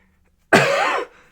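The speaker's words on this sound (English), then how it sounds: "I missed the mute there when I was coughing" A single loud, harsh cough lasting about half a second, close to the microphone in an otherwise quiet room, trailing off into a brief rasp.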